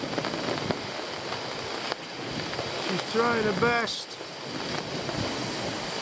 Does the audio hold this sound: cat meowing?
no